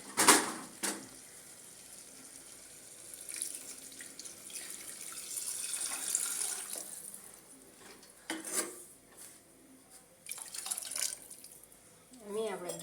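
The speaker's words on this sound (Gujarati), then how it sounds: "હવે આપણે અંદર નાખશું પાણી" Water is poured into a pot of spiced Girnari khichdi in intermittent splashing bursts, with clinks of the pot and a voice talking in between.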